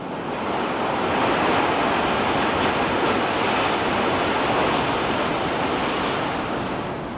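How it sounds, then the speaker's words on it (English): Ocean surf pounds the shore in a loud, continuous roar, waves swelling and washing in close with a constant wind-like rush and no voices. "I used to love the way the pounding surf would lull me to sleep at night"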